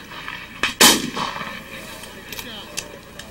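Musket fire at a Gettysburg Civil War battle reenactment, one loud close blast followed by a few fainter distant shots, with scattered outdoor noise.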